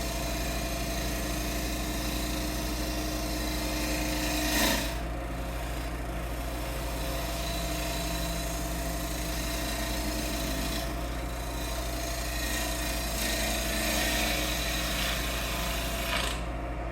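A wood lathe spins an English walnut vase at 1500 RPM with a steady, continuous mechanical hum. A turning tool adds an ongoing rasping scrape, which swells briefly a few times.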